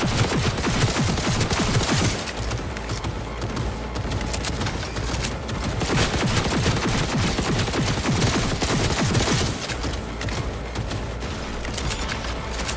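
Sustained automatic gunfire in the video game Cyberpunk 2077 during a big fight, rapid loud bursts and overlapping shots with brief pauses, dense and continuous across the whole stretch.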